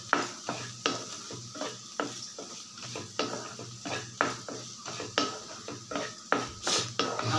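A spatula stirs snake gourd poriyal with grated coconut in a pan, making a steady run of close, rhythmic scrapes and light clinks against the metal, with no talking.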